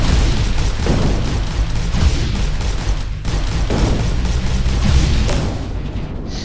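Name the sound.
charging cannon in the video game Overload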